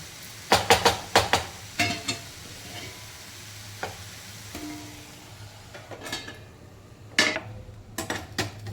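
Radish and radish-leaf bhaji cooks in a pan as a spoon stirs and scrapes, giving sharp metallic clanks in bursts, some close together, over a low steady sizzle, with no voices.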